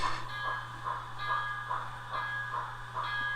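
An N-scale Kato 2-8-2 Mikado with an ESU LokSound decoder pulling a circus train, giving off a steady rhythmic chuff of about two beats per second over a constant low electrical hum, moderately loud and close.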